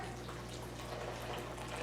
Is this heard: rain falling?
no